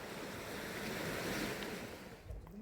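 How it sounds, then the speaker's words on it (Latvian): Sea waves washing on the shore with wind, a soft continuous surf rush and gusty wind buffeting the microphone, fairly faint and steady throughout. "Daba, jūra un vējš."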